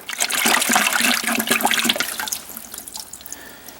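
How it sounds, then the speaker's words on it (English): Running water splashes steadily over yellow morel mushrooms being rinsed in a bucket, loud and close at first, then easing off into quieter trickling. "Rinse them off real good."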